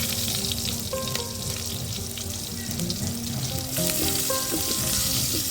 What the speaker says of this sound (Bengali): তেলের মধ্যে আমি এখন পেঁয়াজ কুচি দিয়ে দিলাম